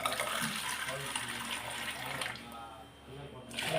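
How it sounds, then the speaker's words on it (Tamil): Water from a cup is poured into rice flour batter in a kitchen, a steady close splashing gurgle with a faint voice beneath it, tailing off briefly before a final short pour. "இப்போ இதில் வந்து 4 கப்பு தண்ணி ஊற்ற போகிறேன்."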